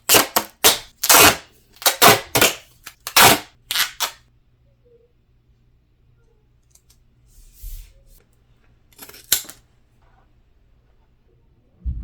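Scissors snip through gray duct tape in a quick series of short, crisp cuts, loud and close, followed by a quieter stretch with a couple of faint snips.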